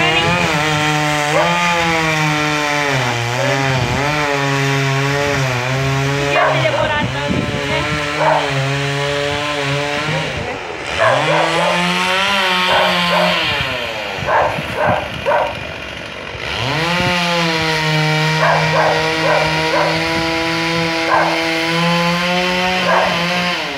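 A chainsaw cuts through a tree among power lines in Atalaia, PR. The engine snarls loudly and continuously for the whole stretch, revving up and down as it bites into the wood.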